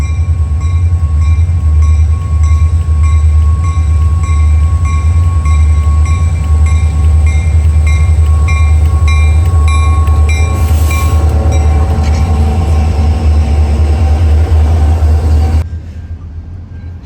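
CN local freight L504 rumbles past in Burlington, Wisconsin, with a loud, heavy, continuous low roar and rhythmic clicking of wheels over rail joints, cutting off abruptly near the end.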